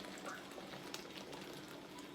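Budweiser Nitro Reserve Gold beer pours hard from a can and fizzes, a soft continuous hissing foam with faint bubbling, fairly quiet and close.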